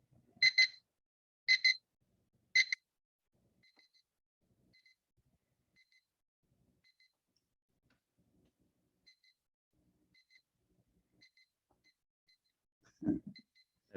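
Three loud electronic beeps in quick succession from a Class 5 CT124, followed by a long run of faint, evenly spaced beeps and a brief low thump near the end.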